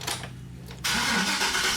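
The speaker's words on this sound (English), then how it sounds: "So now I'm going to start the engine." A GMC Savanna van engine cranks briefly, then catches at about 0.8 seconds and settles into a loud, steady run close to the microphone. The van has a hesitation and low-power concern.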